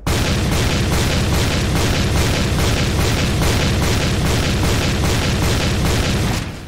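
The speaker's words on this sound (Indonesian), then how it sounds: "asal kalian nembaknya nunggu senjatanya kepegang dulu baru nembak lagi ya jadi kayak gini" A shotgun fires in the Point Blank video game, booming in a steady, evenly spaced series of about a dozen heavy blasts, loud and unbroken with no speech.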